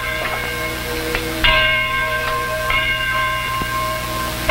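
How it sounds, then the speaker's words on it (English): Church bell ringing with a sustained, shimmering metallic tone, struck several times so overlapping peals swell and decay, in an old television drama. "There's the bell. Isn't it beautiful?"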